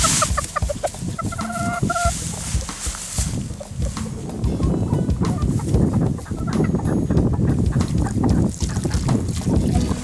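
Meat-type chickens in a chicken tractor on a Philippine farm cluck and call repeatedly at close range, loudest early on, then give way to busy clattering and rustling activity.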